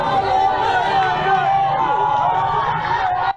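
Dense crowd chatter and hubbub from a large gathering at a popular political meeting in the capital, steady and close for a few seconds before cutting off abruptly.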